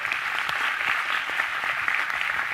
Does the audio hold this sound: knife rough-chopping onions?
no